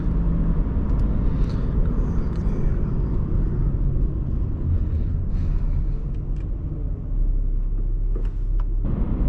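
A steady low engine rumble from a 2003 Hyundai Sonata 2.7 V6 and road noise fill the cabin of the moving car, constant throughout with no talking.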